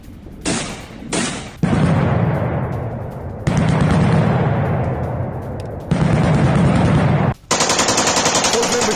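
Machine gun fire from combat between Russian and Ukrainian fighters in the Kreminna forest, loud sustained bursts repeating several times with short gaps between them.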